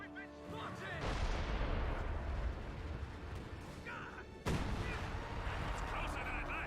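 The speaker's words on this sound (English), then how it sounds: "Bombardment on the way." Artillery bombardment in the video game Company of Heroes 2: two heavy booming impacts, each followed by a long rumbling roll of debris and scattered fire, loud and close, with game voices heard faintly beneath.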